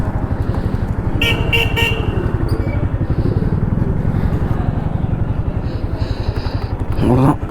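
A motorcycle pulls away and rides along a road, its engine a steady close drone throughout, with a brief horn toot and other traffic noises near the end.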